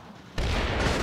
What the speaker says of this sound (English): It's artillery. It's wildly inaccurate, but it's artillery.